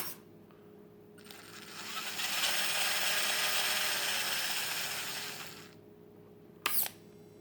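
The drivetrain of a WPL C24 RC truck runs in second gear, making a mechanical whir that swells for a few seconds and then stops. A sharp click follows near the end.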